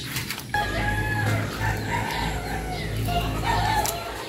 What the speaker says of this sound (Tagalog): Mga manok nang gigising.